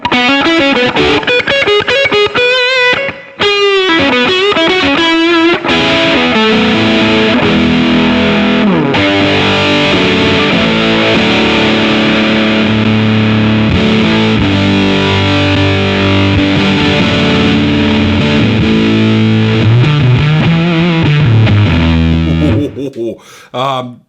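A distorted electric guitar through an MMK Electrics Pavlof fuzz pedal plays continuous chords and riffs, shifting from gritty crunch to thick, saturated fuzz, loud and close for over twenty seconds.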